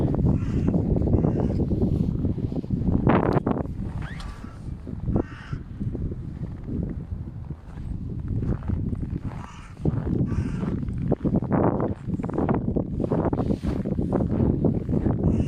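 Gusty cold wind in Pechora, Komi, northern Russia, buffets the microphone in loud, uneven bursts, with a crow cawing now and then.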